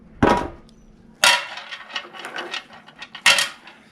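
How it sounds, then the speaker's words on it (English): Bolts from a 4L80E transmission teardown drop into a metal oil pan in three sharp metallic clanks with rattling settles between them, close and loud, with no talking. "So those are some bolts."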